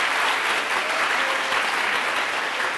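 A crowd claps for quiz contestants from a Rubí school, a dense, even burst of applause that stays loud and unbroken for a few seconds.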